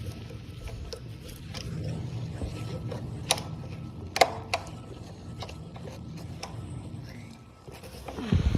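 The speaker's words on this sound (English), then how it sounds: "now let's get these ratchets tight" A hand ratchet tightens bolts on a KTM motorcycle exhaust pipe, giving scattered small clicks and a few sharper ticks over a steady low background hum, with no voices.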